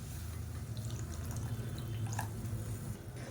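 Water being poured into a pot of tomato sambar, a soft steady trickle and splash with a few drips, heard close but quietly and alone.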